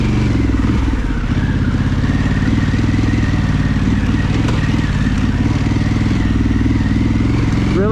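A Harley-Davidson Pan America motorcycle rides off road, its engine loud and close throughout with a steady mid-pitched drone, throttle rising and easing as the rider works the clutch, with some clatter.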